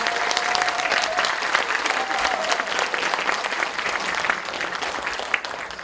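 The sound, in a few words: audience applause welcoming poet Na Tae-ju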